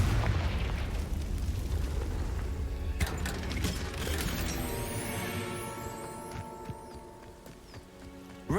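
A Confringo blasting spell explodes in the Hogwarts Legacy video game, heard as a heavy rumbling burst at the start that fades into a lighter sparkling, crackling tail with a few sharp pops.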